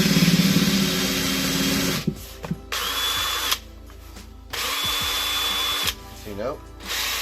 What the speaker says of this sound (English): Get the drill spinning, kind of run it into the wood, and it'll straighten itself out.